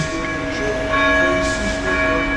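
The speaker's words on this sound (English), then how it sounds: "The bells of the Church of the Sacred Heart strike 12 o'clock" Church bells of the Church of the Sacred Heart in Szczecin strike twelve, sustained ringing tones layered over an outdoor background hum, swelling a little louder midway through.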